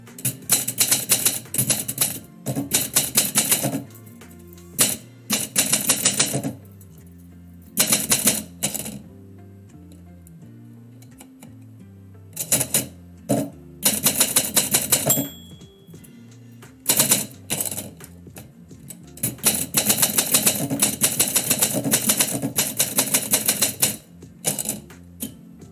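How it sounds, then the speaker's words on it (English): A typewriter is worked in bursts, with rapid clacking keystrokes and sharp strikes separated by brief pauses, loud and close with no voices. "what is my typewriter doing?"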